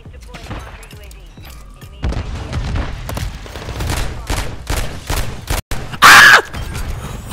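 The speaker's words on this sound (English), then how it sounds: "I was just shooting through the smoke, hoping to get him" Video game gunshots as a pistol fires through smoke, a string of sharp cracks and thumps spaced across the clip with one loud burst near the end, under a player talking and groaning.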